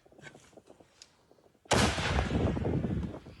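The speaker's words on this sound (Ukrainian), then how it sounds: "Постріл!" A single loud gunshot cracks out after a quiet stretch of faint rustling, followed by a long rumbling echo that slowly fades.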